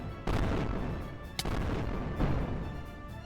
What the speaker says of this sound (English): use the red cannon